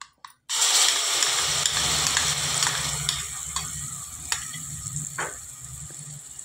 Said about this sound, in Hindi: इसको लगभग 1 मिनट भून लेंगे।